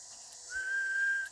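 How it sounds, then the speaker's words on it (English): A person whistles a single steady note into a microphone while tuning a single sideband ham radio at 100 watts, clear and close, lasting under a second with faint hiss around it. "If I whistle at 100 watts single sideband, that's not going to change too much."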